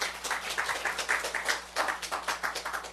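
A church congregation at a Sunday service claps together in a steady, rhythmic beat of many hands for about three seconds, with no voices over it.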